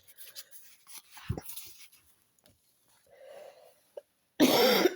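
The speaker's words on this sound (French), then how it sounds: "je tousse beaucoup" A person coughs, a sharp burst near the middle and a louder, harsher fit at the end, with soft rustling and handling noises between.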